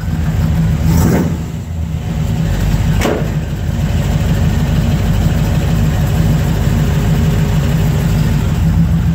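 A 1984 Chevy pickup with performance exhaust idles loud and close, a deep steady rumble with two short sharper blips early on and no speech.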